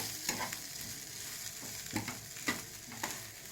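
Grated coconut lightly frying in a pan for a ridge gourd peel chutney, giving a soft, steady sizzle broken by a few scraping stirs of a spatula, close and quiet with no talking.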